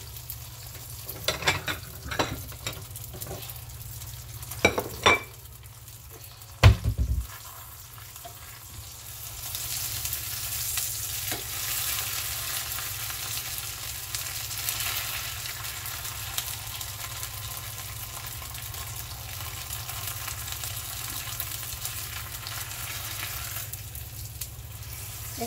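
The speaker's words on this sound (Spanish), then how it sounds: "Solo queremos que sean pasadas por el aceite." Tortillas for enchiladas sizzle in hot oil, with a few clattering handling sounds and a clunk early on, followed by a steady, moderately loud frying hiss that continues to the end.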